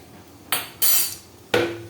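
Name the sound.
cooking pot being set down for biryani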